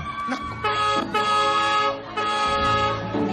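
A car horn honking as a car arrives: three loud toots in a row, each held about half a second, with short gaps between them.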